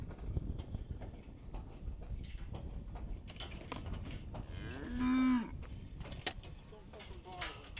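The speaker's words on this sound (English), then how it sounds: "The cows will be coming in a minute for milking, will they?" Dairy cows on an Irish farm low loudly at milking time, one clear drawn-out moo rising above a steady background of farmyard noise and distant lowing from the herd.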